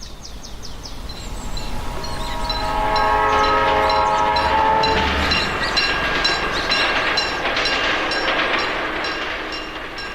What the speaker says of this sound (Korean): 공주 영명학교에 부임을 하게 된 화벽이 기차에서 내려 주위를 둘러본다.